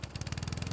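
A riding lawn mower engine runs with a fast, even putter, close and fairly loud, its regular firing pulses repeating without any voices.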